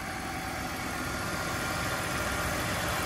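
An old car engine, repaired after losing compression, runs steadily at idle, a loud, even rumble with constant vibration and no speech.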